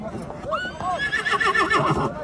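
Horse neighing at a rural livestock bazaar in Nookat, with a couple of rising and falling whinnies amid lively crowd chatter and people talking close by.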